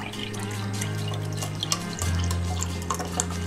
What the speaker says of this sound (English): I'm going to add some sparkling water